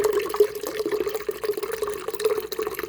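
Apricot nectar pours from a can into a bowl of punch, a close, continuous gurgling splash with small uneven glugs and drips over a few seconds.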